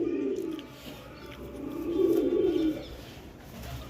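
Pigeons of a home-bred flying breed coo in low, rolling bursts, two main swells a little apart, fairly close and moderately loud with light background noise.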